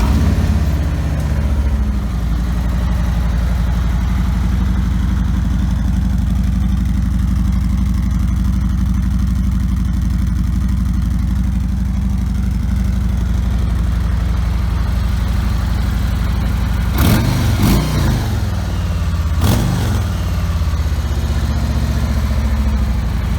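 A 2018 Harley-Davidson Street Glide Special motorcycle with stock exhaust idles with a steady low rumble, then revs sharply a few times near the end.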